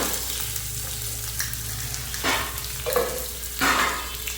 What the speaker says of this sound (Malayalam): ജസ്റ്റ് ഒന്ന് ഇളക്കി കൊടുത്തോണേ വേഗം തിരിഞ്ഞു പോവും